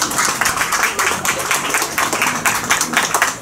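A room of guests at a quinceañera party in Tarapoto claps steadily and briskly, a dense and fairly loud burst of applause that continues throughout.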